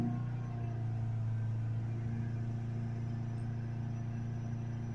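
Ford Galaxy 2.0 diesel engine held at full acceleration around 3000 RPM, a steady loud droning hum with strong low harmonics, unchanging throughout and with no talk.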